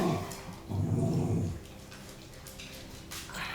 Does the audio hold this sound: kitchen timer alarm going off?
no